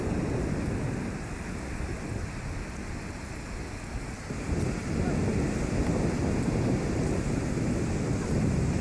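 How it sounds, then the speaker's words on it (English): Sea waves washing onto the beach at Shati al Qurum in Oman, a continuous broadband roar with wind buffeting, swelling louder in the second half, no clear speech. "Here's the sea."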